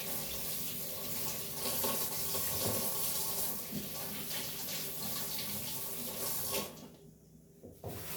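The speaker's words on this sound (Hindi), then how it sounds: "मूली धो लेते हैं।" Radishes washed under a running kitchen tap: a steady close stream of water splashing for about six and a half seconds, then the flow cuts and a few drips and handling noises follow.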